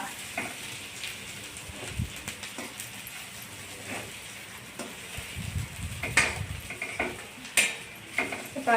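Green peas, onion and coconut sauté in a pan for a matki samosa filling, a soft, fairly faint sizzle with intermittent clinks and scrapes of a spoon against the pan, no talking.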